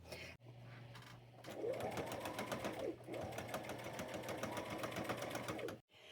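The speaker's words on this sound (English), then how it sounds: "I'm going to take it to my machine and run me a stitch down through there for the top of my pocket" A sewing machine runs a line of stitching across the top of a pocket made from upcycled sheet fabric, a close, steady mechanical whir that starts, pauses briefly and resumes before stopping.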